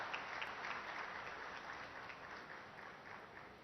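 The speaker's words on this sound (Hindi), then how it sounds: "तालियों की गड़गड़ाहट से इनका उत्साहवर्धन हो।" Steady, dense applause from an audience at a civil aviation event in India fills the space, holding at a constant level throughout with no voices over it.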